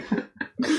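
A single sharp cough bursts out close by, followed by two more rough coughing bursts after a brief pause, all short and loud with no talking.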